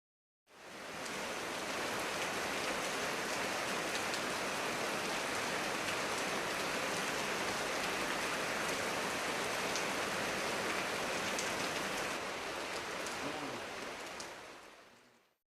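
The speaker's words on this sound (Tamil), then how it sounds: "கிருஷ்ணகிரி மற்றும் புதுநகர் பகுதிகளில் திடீர் என மழை பெய்தது" Sudden heavy rain in Krishnagiri, Tamil Nadu, pouring steadily after a hot spell, a dense, constant hiss of drops on surfaces that runs unbroken at full loudness for about fifteen seconds.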